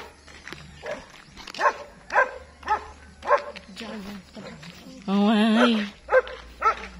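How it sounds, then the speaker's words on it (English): Big dogs at a gate bark in several sharp bursts, one longer drawn-out howl-like bark in the middle, with people talking loudly around them. "Look at the big dogs at the gate."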